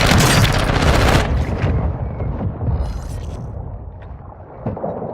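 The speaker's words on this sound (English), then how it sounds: "Friendly mortar strike inbound." Friendly mortar strike explosions in a military shooter video game, a loud rumbling burst of booming blasts up front that fades into a lingering low roll with scattered distant thuds and a final sharp crack.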